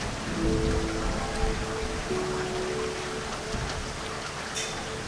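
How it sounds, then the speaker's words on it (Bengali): Steady rain pours down, a dense and continuous hiss of falling drops heard close, with a faint tonal hum in the background and no voices. "বৃষ্টি তো কিছুক্ষণের মধ্যেই বন্ধ হয়ে যাবে।"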